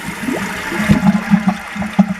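A toilet flushes up close, with gurgling, sloshing water and rhythmic bubbling pulses as the bowl refills around a hanging cleaner refill.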